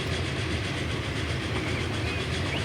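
A train running along rails in the railway game Transport Fever 2, a steady loud rumble with faint rhythmic clicking of wheels, continuous with no talking.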